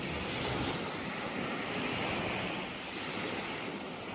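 Ocean surf rolls onto a beach at high tide in a steady, broad wash of waves, with wind buffeting the microphone throughout.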